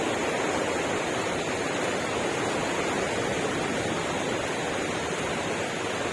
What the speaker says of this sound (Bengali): সমুদ্রের ঢেউয়ের গর্জন শোনার মধ্যে একটা সুইমিং একটা ভাব আছে